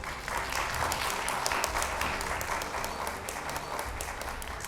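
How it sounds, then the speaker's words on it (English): An audience claps at a debate event in India, a dense, sustained round of applause from a crowd that holds steady for several seconds, fairly close and even in volume. "A huge round of applause please"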